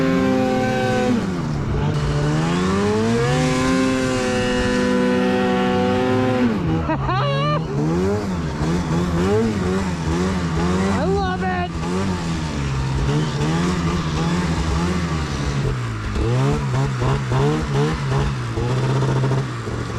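An Arctic Cat Catalyst 146-inch snowmobile on a mountain ride revs loud and close, its engine pitch rising and falling in repeated bursts of throttle over the whole stretch.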